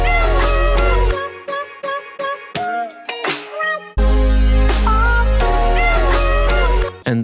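Synth chords layered over a bass line in a sample-based beat, loud and continuous with pitched chopped-sample phrases; deep bass sustains beneath, a brief dip near the middle before the full texture comes back.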